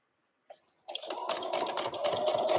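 A sewing machine starts after a brief click and then stitches vinyl in a fast, steady, close-up whir of rapid needle strokes.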